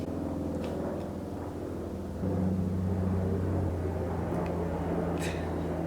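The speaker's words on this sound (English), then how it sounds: "That is the loudest plane ever." Loud airplane passing overhead, a steady low droning engine rumble with tonal hum that grows slightly stronger midway, heard indoors alone without talk.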